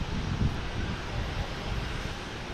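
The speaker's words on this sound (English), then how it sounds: "next takeoff is Cape Air heading to Bar Harbor on 2 right" A Cape Air plane takes off on runway 2 right at Boston Logan Airport, a distant, steady engine roar mixed with wind noise on the microphone, with no talk over it.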